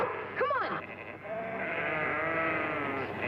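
A single wavering sheep bleat sounds briefly on a farm in an old television drama, followed by steady voices and low background noise.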